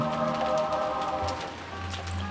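Rain sound effect from the Umineko no Naku Koro ni visual novel: a steady, soft wash of rainfall that continues without pause under tonal background music.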